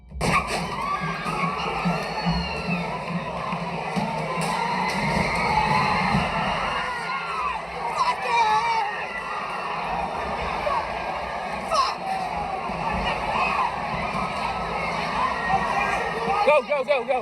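A crowd of counter-protesters shouts and cries out in continuous, dense commotion, with scattered thuds and running footsteps as a young neo-Nazi drives a car into them; close, loud, chaotic shouting throughout.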